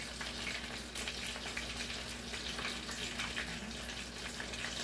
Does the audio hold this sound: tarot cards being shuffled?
no